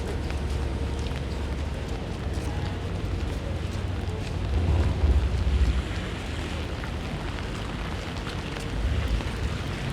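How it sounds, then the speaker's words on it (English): Gusty wind buffets the microphone on a city street in Toronto as rain eases, a loud continuous low rumble that swells in bursts, with no voices. "Rain is letting up, but the wind is picking up a little bit."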